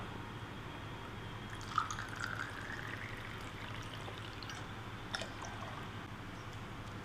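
Water, 100 ml, poured for a honey citron drink, a soft, quiet trickle of liquid with a couple of faint drips, heard close up against a low background hum.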